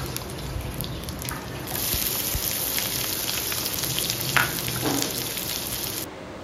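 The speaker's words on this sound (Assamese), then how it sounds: "পিয়াজখিনি এতিয়া ভালকে ভাজি লৈছো।" Onions frying in a pan with bay leaf and five-spice for an Assamese fish head curry, a soft continuous crackling sizzle heard close, with a brighter hiss joining partway and fading near the end.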